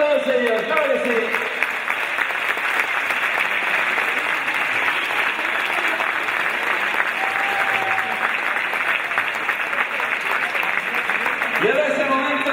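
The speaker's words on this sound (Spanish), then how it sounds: "Fuerte aplauso para todos ellos, claro que sí" A crowd gives sustained, loud applause at a presentation of the Club Deportivo Blanca handball teams for the 2017-2018 season, with a dense wash of clapping throughout and brief voices at the start and end.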